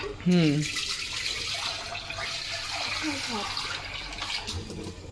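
Chicken liver being washed under a running home kitchen tap, a steady close splash and water flow with a few faint voice-like sounds mixed in.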